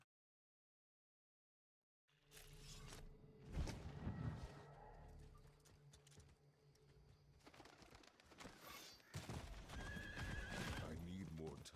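A horse in the video game Diablo IV whinnies and gallops with rhythmic hoofbeats after a brief silence, loud and close, while a person talks over the game audio.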